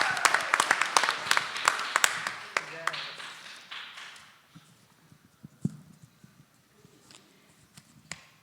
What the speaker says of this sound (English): You can clap for Dan.